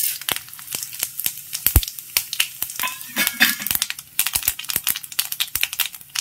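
Mustard seeds crackle and pop in hot oil while tempering for kozhukattai, a dense run of sharp snapping bursts over a steady sizzle, close and fairly loud.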